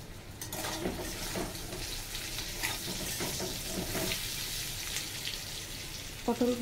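Pointed gourd (potol) sizzles steadily in hot oil in a pan, a continuous close frying hiss with a few stirring scrapes and a brief clink near the end.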